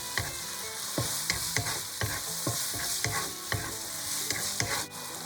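Lamb fried rice with cumin, salt and chicken powder being stir-fried in a wok, with steady loud sizzling and a regular rhythm of spatula strikes and scrapes against the metal, no talking.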